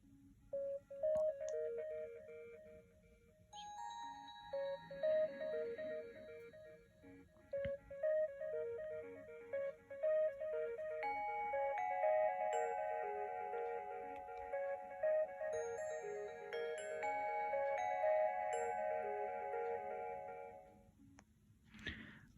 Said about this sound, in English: that was the Stargazer tone.